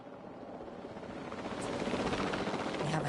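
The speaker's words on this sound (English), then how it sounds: "We have a helicopter standing by, and they'll attempt to tranquilize the animals from the air." A helicopter's rotor thrum and whine build steadily louder as it draws nearer, a dense pulsing roar that fills the short stretch without any voices.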